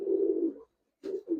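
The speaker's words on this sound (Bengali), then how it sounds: "এটা মাদি কবুতর" A female Giribaz pigeon coos nearby, one long low throaty coo followed after a short pause by two shorter coos.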